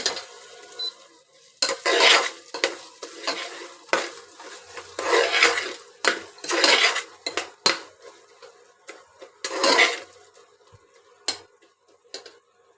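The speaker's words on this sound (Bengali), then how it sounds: "এরপর মশলাগুলো ভালোভাবে কষিয়ে নিব।" Spices with dried red and green chilies for a spicy pilaf being stirred in a pan, a metal spoon scraping and clattering in irregular bursts over a light sizzle, close and fairly loud, with no talking.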